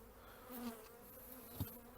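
Steady, dense buzzing of many agitated honeybees close by at an open hive being treated for winter, a restless droning hum with a brief louder bump near the end.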